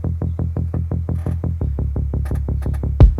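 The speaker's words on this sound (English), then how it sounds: "So if I take the sidechain off, it sounds like this." A sampled Splice bass loop without sidechain plays alone as a steady stream of quick sixteenth-note pulses, loud and evenly throbbing, with a brief sharp tick near the end.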